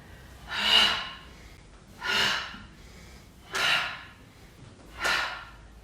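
Four slow, deep breaths pushed out during a yoga session, each a loud, breathy exhale spaced about 1.5 seconds apart with quiet pauses between, heard alone without talk.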